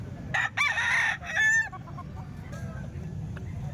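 A chicken calls out in a few loud, harmonic bursts over steady outdoor background noise, then quieter ambience continues.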